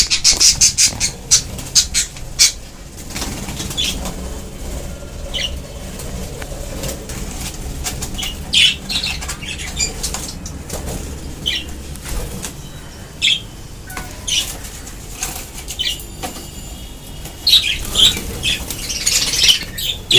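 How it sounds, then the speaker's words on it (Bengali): A colony of budgerigars just released into a new enclosure squawks and chirps continuously, with bursts of wing flapping and fluttering scattered throughout, busiest near the end. "টোটাল পাখি সব ছাড়া হয়ে গেল।"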